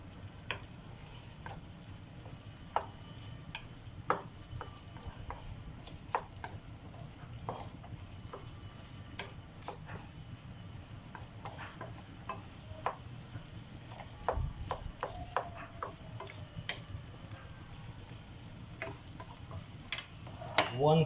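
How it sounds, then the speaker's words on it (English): Chicken and vegetables sauteing in butter in a pan, a steady low sizzle with scattered sharp ticks and clinks of stirring, fairly faint and even throughout, with a louder clatter near the end. "I'm going to saute the chicken with the vegetables in butter."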